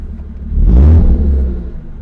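BMW E36 engine with the stock muffler removed and catalytic converters still in place revs once, a loud, close, deep rumbling swell that rises quickly, holds briefly and then settles back to idle.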